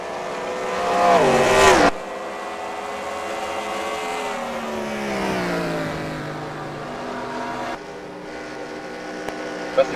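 Race cars in a Piston Cup racing video game at Smasherville Speedway drone steadily around the track, a loud engine swell rising early and then settling into a sustained whine under continuous commentary.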